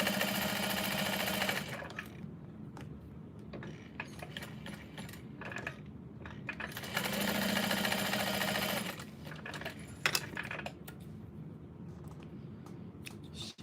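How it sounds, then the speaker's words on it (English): A sewing machine stitches down the sides of a tote bag in two bursts of steady rapid whirring, close by, separated by quiet pauses with small handling clicks and taps. "I'm gonna sew down the sides of this."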